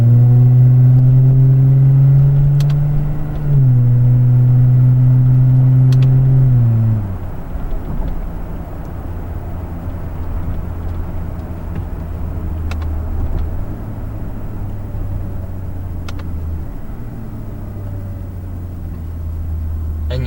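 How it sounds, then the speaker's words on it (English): Engine of a Lexus IS250 driven with paddle shifters, loud and close: high revs drop in steps as it downshifts while braking toward a red light, then settle into a lower steady drone with a few more small step changes. "So now I'm coming up to a red light, brake, downshift, ease off the brakes, brake, downshift, ease off the brakes."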